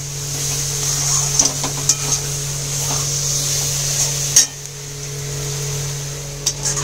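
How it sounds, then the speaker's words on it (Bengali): A moong dal and rice flour mixture is stirred in a pan as it dries out, giving scattered scraping taps and soft clicks of a spoon over a steady low hum, with no talking. "ভালো করে নেড়ে এটাকে পাক করে নিতে হবে, ততক্ষণ না ড্রাই হয়, শুকিয়ে যাবে একদম।"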